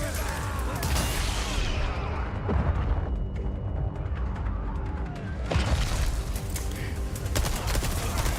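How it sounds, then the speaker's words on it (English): Flashbang grenade and gunfire in a video game firefight: a dense, loud barrage of booms and shots fills the first half, eases briefly, then surges again toward the end. "I'm gonna throw a flashbang here."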